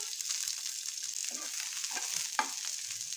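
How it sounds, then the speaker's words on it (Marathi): Two small onions frying in a spoonful of oil, a quiet steady hiss of sizzling with faint stirring scrapes and a small tap partway through. "तर वाटण करण्यासाठी मी हे 1 चमचा तेल घेतलेलं आहे आणि ह्या तेलामध्ये आधी आपण हा कांदा परतून घेऊया."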